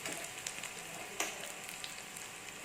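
Dried mackerel and mango curry bubbles and sizzles steadily in a pot, a soft, even frying crackle with a faint clack from stirring, heard close and quiet with no one talking.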